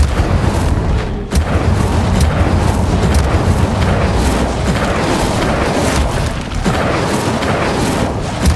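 An Incendio fire spell cast in the Hogwarts Legacy video game, heard as loud, continuous booming blasts and crackling roar with a few sharp cracks, close and dense, with no talking.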